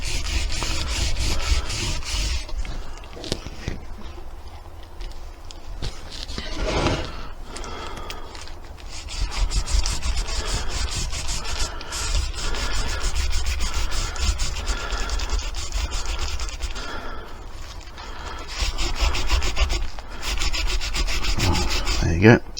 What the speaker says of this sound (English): Just rubbing the wax deep into the cracks to make sure that we get the same finish all the way along.